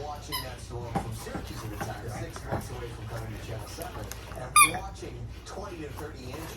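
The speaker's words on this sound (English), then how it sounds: "It says ARF. An interstellar squeaker." A squeaky toy egg gives a few short, sharp squeaks amid nearby rustling and handling, with people talking close by.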